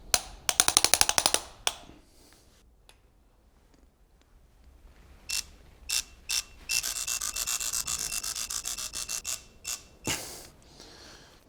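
A torque wrench ratchets while tightening cylinder head bolts on a supercharged 500hp Alpina B7 engine during a rebuild. Rapid close clicking comes in two bursts separated by a quieter pause, with no talk.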